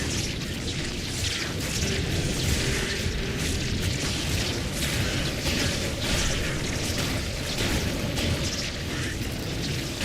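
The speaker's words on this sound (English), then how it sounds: "Corpse explosion seems to be my best friend here." Corpse Explosion spell cast by a Necromancer in Diablo 2 Resurrected hardcore, a dense continuous barrage of booming blasts and bursts layered over game noise.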